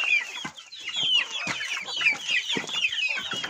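Hens cluck in a farmyard, with short repeated clucks and squawks overlapping in an uneven, busy rhythm, close and fairly loud with no talking.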